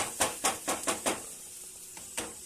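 Mustard paste sizzles in hot oil with spices for a Bengali hilsa fish curry, with a run of crackling bursts as it is stirred, close and moderately quiet, fading to lighter sizzle.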